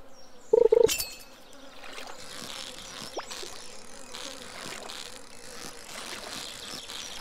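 Flies or bees buzzing in the video game Stardew Valley, a steady insect hum running through the scene, with a short loud clattering burst near the start and faint clicks over the drone.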